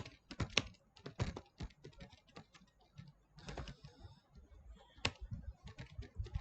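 Computer keyboard typing while writing code for a Node.js tutorial, a quick run of irregular clicky keystrokes with short pauses and bursts, close and moderately loud, no talking.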